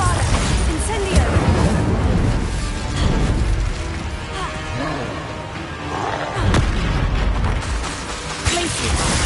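Spell explosions from Bombarda and Confringo in the Hogwarts Legacy video game, a dense run of booming blasts and bursts repeating throughout under a voice calling out spell names.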